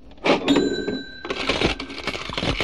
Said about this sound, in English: We make your cash register sing.